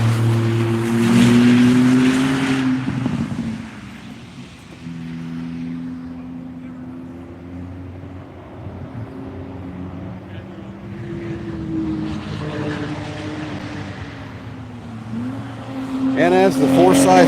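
Porsche race car passing on a circuit during a One Lap of America track session at VIR, engine notes rising and falling as it approaches, sweeps by and fades, with other cars audible and a commentator speaking over it.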